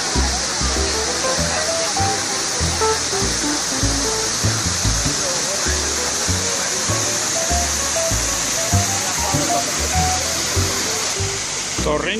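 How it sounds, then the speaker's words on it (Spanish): A large waterfall on the Torrente de Coanegra, a seasonal torrent that flows only after rain, pours with a constant loud rush, while speech runs over the water noise. "por la enorme catarata que estamos visitando"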